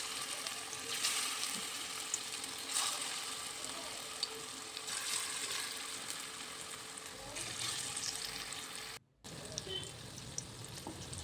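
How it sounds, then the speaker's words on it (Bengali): Green banana koftas fry in hot oil in a wok, giving a steady, close crackling sizzle that carries on for several seconds, broken by one brief dropout near the end. "একে একে কোপ্তাগুলি ছেড়ে দিলাম।"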